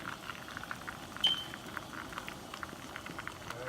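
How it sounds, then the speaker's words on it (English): A pesto, butter and garlic sauce with lemon simmering gently in a pan, a soft, steady bubbling and fizzing with scattered tiny pops, quiet and continuous with no talking. "just let that come to a nice little slow simmer right here"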